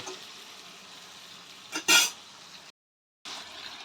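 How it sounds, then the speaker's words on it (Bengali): Spices for vegetarian ghugni sauté in a pan with a soft, steady sizzle, broken by one sharp metallic clink of a spatula against the pan, a brief silent gap, then the frying hiss resumes. "এবার আমি ভালো করে কষিয়ে নেব।"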